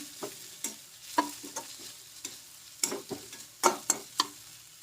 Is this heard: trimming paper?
no